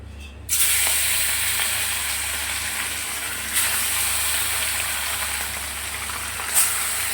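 Soybeans cooking in a hot kadai (wok) give off a steady, close sizzling hiss, with a brief louder flare near the start and a couple of sharper crackles later, and no talking.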